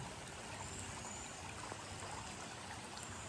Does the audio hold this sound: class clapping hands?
no